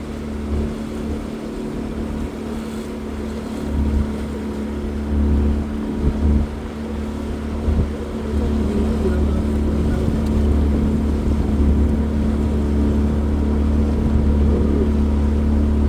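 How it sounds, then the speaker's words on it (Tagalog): Several motorboat engines drone steadily at night during a fishing trip, a constant low rumble with a few louder surges as boats pass nearby, continuous throughout. "Ito na mga maraming bangka eh"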